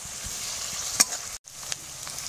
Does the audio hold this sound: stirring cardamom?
yes